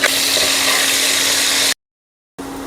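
Cauliflower and other vegetables fry in hot oil in a pan, a dense, steady sizzle that cuts out abruptly for a moment before resuming.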